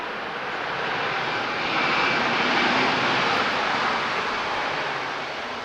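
A Eurowings airliner lands at Lisbon Airport with engine reverse thrust, giving a steady, broad jet roar that swells and then holds, heard from a distance with no voices.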